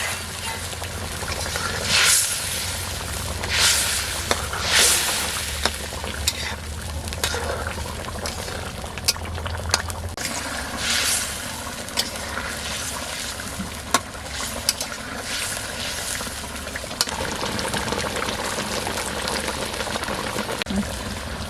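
Water at a rolling boil in a cooking pot as sea fish go in, a constant bubbling rush with splashes and occasional sharp knocks of utensils, close and fairly loud, no talking.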